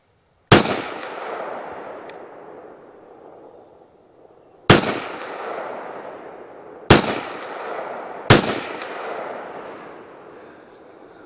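A Walther WMP .22 Magnum pistol fired at targets 100 yards out on an outdoor range, four sharp loud cracks spaced a few seconds apart, each trailing off in a long rolling echo.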